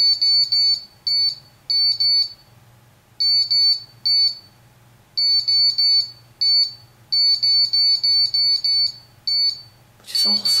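A spirit detector device inside the Pillar and Post Hotel gives off bursts of shrill, rapid electronic beeping in irregular clusters, loud and close, over a low hum.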